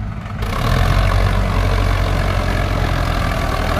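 Sonalika 750 tractor engine under heavy load hauling a fully loaded trolley of maize, a steady loud low rumble that swells after a brief quieter start and holds continuous throughout.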